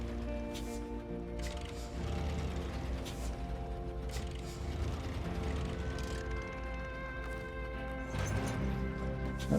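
A truck in SnowRunner has its radar trailer hitched back on, heard as a steady low engine drone with scattered mechanical clunks and a firmer knock near the end.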